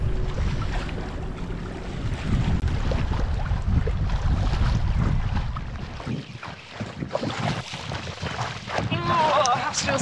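Strong wind of around 17 to 19 knots gusts past a sailboat rounding a headland off Iceland, roaring and buffeting the microphone with water noise beneath, varying in strength throughout.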